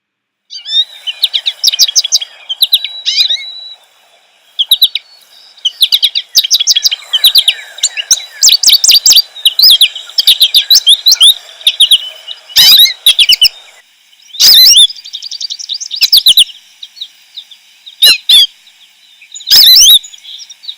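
An American goldfinch sings bright, high chirping birdsong in quick repeating twittering phrases with short gaps and a slight whine, broken by a few sharp louder bursts, close and clear.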